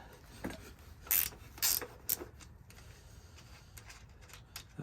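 A ratchet wrench cranks down a door hinge bolt on a 1999-2006 Silverado, Sierra, Yukon or Suburban truck, giving a few quick clicking strokes close by, then quieter faint ticks.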